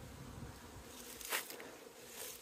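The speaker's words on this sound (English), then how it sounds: "it's so good to hear that sound of the bees buzzing." Honey bees buzz steadily around a small hive during orientation flights, a continuous close insect hum with a brief louder swell as one passes near.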